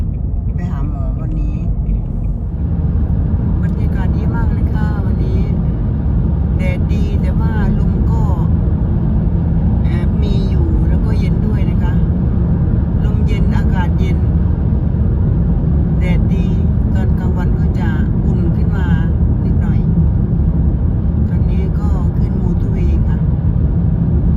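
A car driving along a road, a steady low engine and road rumble filling the background at a constant level throughout, with someone talking continuously over it.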